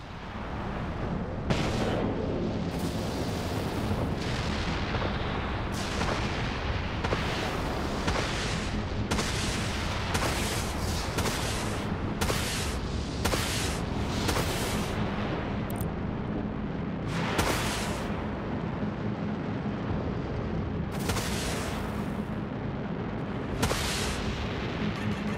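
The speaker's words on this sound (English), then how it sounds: "Captain, firing on enemy missiles." Ship weapons in a space combat game fire steadily at incoming enemy missiles, a dense, loud barrage of booming shots and blasts that runs on without pause, with no one speaking.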